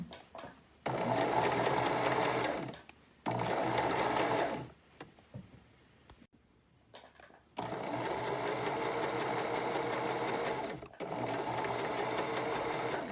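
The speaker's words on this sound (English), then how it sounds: "I'm going to switch on my machine to a permanent stitch, and it's not a basting stitch." A sewing machine sews a permanent stitch around the neckline of a knit dress, running in close bursts of steady needle whir separated by short pauses, no speech over the stitching.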